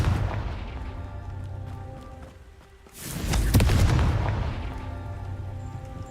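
A fiery Confringo spell goes off in Hogwarts Legacy, a sudden loud boom that bursts after a brief lull and then settles into a rumbling, crackling tail.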